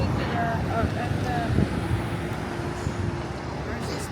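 A cold wind blows outdoors on a sunny day beside a hospital in the UAE, roaring steadily across the microphone with faint traffic and voices mixed beneath it.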